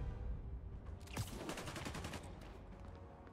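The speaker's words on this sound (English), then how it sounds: "Those are bullets." Bursts of gunfire in Marvel's Spider-Man Remastered, a dense volley of sharp cracks rising over a steady rumbling game backdrop for about two seconds, fairly loud and close, with no talking.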